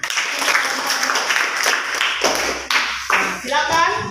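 A school class claps hands for a few seconds, a dense patter of many hands, close and fairly loud, with voices talking through it.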